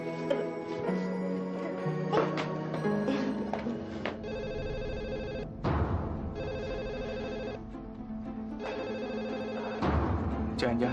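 A telephone rings in a household drama scene, repeated electronic bursts of ringing over background music, moderately loud and steady across the clip.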